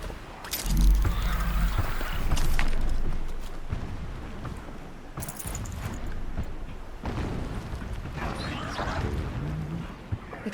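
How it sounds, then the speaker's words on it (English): Distant explosions rumble in the game Horizon Zero Dawn, with a few muffled booms and bursts spread through a noisy ambient background. "Explosions in the distance."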